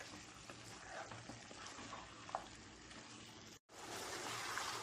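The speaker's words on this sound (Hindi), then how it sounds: "चलिए फिर से हाई फ्लेम पे इसे भून लेते हैं टमाटर सॉफ्ट होने तक।" Chopped tomatoes and spices fry in a pan over a high flame, giving a steady close sizzle with stirring scrapes and a short break before it resumes.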